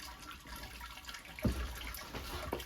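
Water sloshes as a measuring cup is used to rinse brewing gear while a London porter is being brewed, with one brief splash midway and a low, quiet wash of liquid around it.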